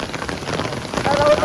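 Strong water rushes steadily through a farm channel after heavy rain, a dense, continuous broadband roar heard close.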